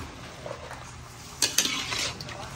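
Pork backfat frying in oil is stirred in a pan, with a soft steady sizzle underneath and a few scraping, clattering strokes of the utensil near the end.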